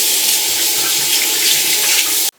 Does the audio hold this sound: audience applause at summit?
no